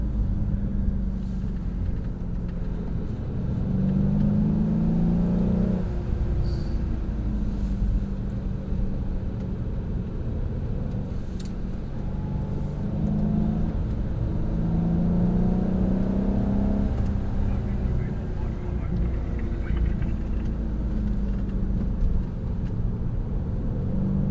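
A Mercedes C63 AMG laps a track at Mercedes-Benz World, its engine a steady in-cabin rumble with repeated rises and falls as it accelerates and eases off, continuous and close.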